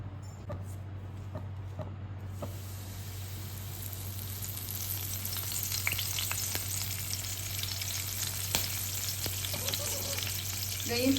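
Garlic and curry leaves fry in hot oil with a steady, close sizzle that swells after the first couple of seconds, scattered with small pops and spoon scrapes throughout; no voices.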